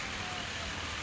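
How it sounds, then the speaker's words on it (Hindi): Rain falls steadily in Bali, a soft even hiss of drops that stays constant through a brief moment. "बारिश"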